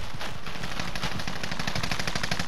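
Rapid automatic gunfire crackles in Call of Duty: Modern Warfare, a loud, dense burst of closely spaced shots running continuously with no pause.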